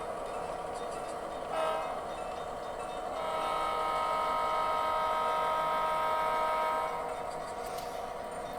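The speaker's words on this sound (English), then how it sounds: "we got to blow our crossing signal" A model train's digital sound system blows a crossing signal, a faint tonal horn in two sustained blasts over steady background hiss.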